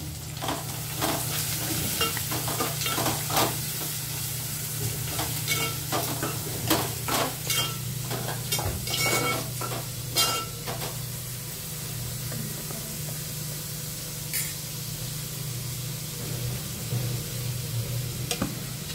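Chopped onion sizzles steadily in hot oil with garlic already browned, while a spoon scrapes and stirs through it in quick, irregular strokes; the frying hiss stays constant and close, with no talking.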